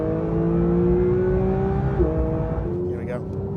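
A Porsche 992 GT3 fitted with a Capristo exhaust pulls hard with a rising, smooth engine note heard from inside the car. It shifts around the midpoint, and a person speaks over the engine sound.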